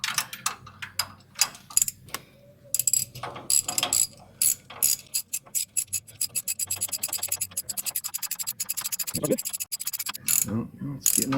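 Ratchet socket wrench clicking away near the axle flange of a 1957 Chevy delivery build, with bursts of quick, close pawl clicks that speed into a steady rapid ratcheting run, broken by short pauses and a few clunks.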